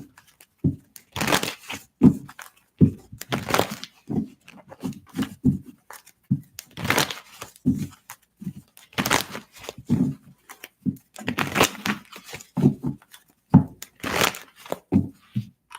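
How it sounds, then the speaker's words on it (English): Tarot cards being shuffled by hand during a live question reading, a run of repeated papery riffling and soft crinkling bursts with short pauses between them, close and fairly loud, with no talking. "One more shuffle."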